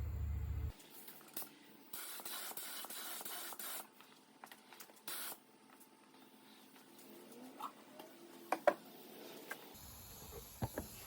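House of Color silver sealer with metal flake sprayed onto a custom license plate for a 1965 Impala convertible lowrider, heard as a few short hissing aerosol bursts between quiet pauses, close by, with no talking.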